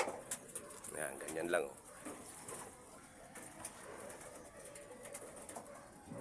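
Racing pigeons at a loft coo softly and repeatedly nearby, with chirps and scattered clatter while someone talks over them.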